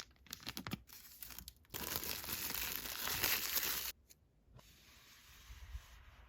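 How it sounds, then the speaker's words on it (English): The pull tab on an Apple Pencil 2 box is tugged open, giving a long papery tearing and crinkling rasp with brief pauses, close and fairly quiet, with no voices. "a simple little pull tab that allows us to open up our Apple Pencil"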